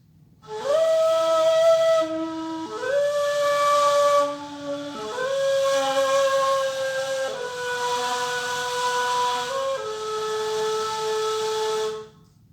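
A breathy ney reed flute plays sustained held notes in a slow phrase, each tone airy with a soft hiss, stepping between pitches with brief breaks.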